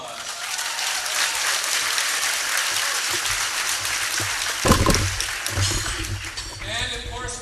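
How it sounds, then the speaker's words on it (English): A graduation crowd claps in a sustained, moderately loud patter from many hands, and a voice speaks briefly over it before the applause fades and talk resumes. "Give yourself a round of applause."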